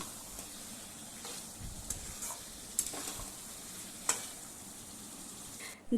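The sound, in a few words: poppy seed paste stir-frying on medium flame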